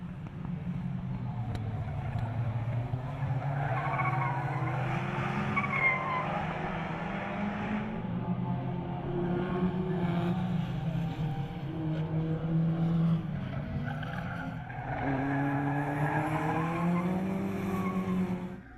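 Historic race cars compete at the Val de Vienne circuit, their engines droning loudly and continuously and rising and falling in pitch as they rev through gears, with a brief dip as the pack shifts.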